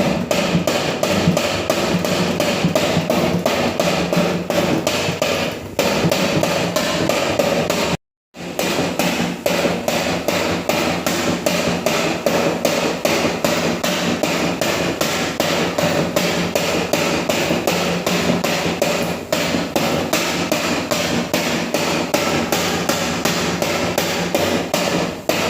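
A slotted spoon is tapped repeatedly against a pan edge to drop boondi batter into hot oil for motichoor laddu, giving a steady, loud, fast rhythm of sharp knocks that continues throughout with one brief gap.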